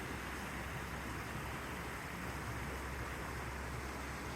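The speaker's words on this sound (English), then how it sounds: "right outside our window, we have the babbling brook that we get to listen to" A babbling brook runs right outside a window at Allegany State Park, a soft steady rush of flowing water, faint and continuous with no voices.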